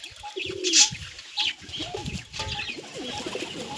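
Pigeons gather at a water basin to drink and bathe, cooing softly close by with a few bursts of wing flapping over a low outdoor background.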